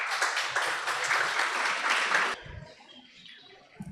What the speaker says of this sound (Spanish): por favor la despedimos con un fuerte aplauso